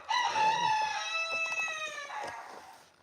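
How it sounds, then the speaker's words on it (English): A rooster on a ranch crows once, loud and close, in a long, strained cock-a-doodle-doo lasting about three seconds, with no talking over it. "Sometimes I just wish we didn't have any roosters."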